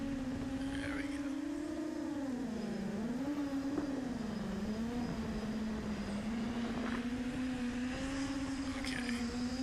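Motors of an iFlight Helion 10 FPV drone on a 6S setup easing down for a gentle landing in wind, a steady loud whine that wavers in pitch as throttle shifts, continuous and close throughout.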